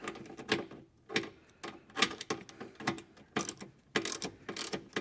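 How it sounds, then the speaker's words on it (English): Half-inch ratchet wrench clicking in quick bursts as a fastener is turned, repeated pawl ratchets with short pauses between strokes, close and fairly loud with no talking. "we're using the 1/2-inch ratchet"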